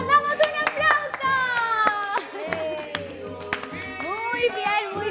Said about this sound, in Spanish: Y nos damos un aplauso